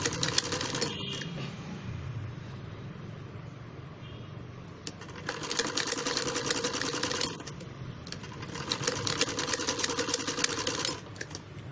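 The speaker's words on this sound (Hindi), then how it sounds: "और इसी प्रकार जो दूसरी साइड है उसकी हम स्टिचिंग करेंगे।" A sewing machine stitches a princess-cut padded blouse, running in steady close whirring bursts that stop briefly and start again.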